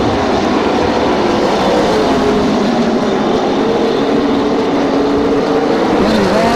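Limited late model race cars roar around a speedway, a dense, continuous engine howl with rising and falling pitch as the pack passes, loud and steady throughout.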